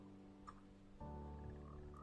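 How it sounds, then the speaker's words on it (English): Frogs croaking in the Minecraft video game, a steady layered chorus of game croaks that grows louder and denser halfway through and holds on without any talking. "Next we have is the froggies, which you can see."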